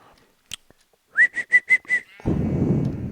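Five short rising whistled notes in a quick even series, fairly loud, as a person whistles to call a dog named Salty toward a boat, followed by a steady rush of wind or water noise.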